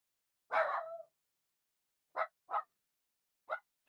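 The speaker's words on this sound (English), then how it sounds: "Sorry about the dog, y'all." A dog barks indoors: one longer bark, then a few short, sharp barks spaced apart. The barks stand alone against silence and sound moderately close.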